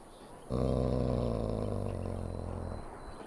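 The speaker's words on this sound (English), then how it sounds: "Who's the cute and adorable puppy?" A dog in the fantasy role-playing game Dragon Age: Origins lets out a deep, sustained growl that starts abruptly and rumbles loudly for a few seconds before fading slightly.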